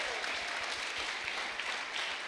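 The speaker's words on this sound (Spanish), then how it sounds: "por favor den un aplauso" Church congregation applauding together in a steady, dense wash of clapping that fills the whole moment, fairly even in level with no voices above it.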